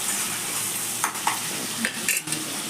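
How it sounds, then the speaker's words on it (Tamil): Tomato and onion sautéing in a pan for a small fish curry, giving a steady sizzle broken by a few light stirring scrapes and clinks. "தக்காளி வெங்காயம் போட்டு நல்லா வதக்கிடலாம்"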